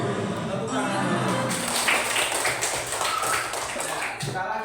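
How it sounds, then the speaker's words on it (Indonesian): A class of children clapping hands together during a lesson, a dense patter of applause from about a second and a half onward that trails off near the end, with a teacher's voice heard at the start. "Tepuk tangan."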